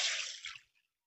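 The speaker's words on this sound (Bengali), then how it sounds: "এবার আমি এই জলের মধ্যে দিয়ে দেবো মেথি দানা" Fenugreek seeds poured into water make a brief, bright splash and patter that fades to silence within a second.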